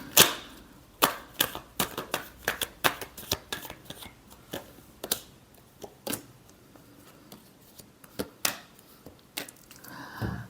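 Tarot cards being shuffled by hand in a series of crisp riffles and slaps, irregularly spaced, close and clear with no talk.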